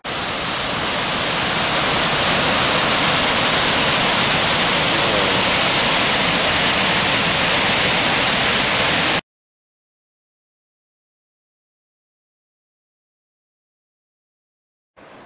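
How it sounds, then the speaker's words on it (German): Loud, steady roar of the Rotmoosferner waterfall in the Ötztal, Austria, a dense broadband rush lasting about nine seconds, then abrupt silence. "Rotmoosferner Wasserfall."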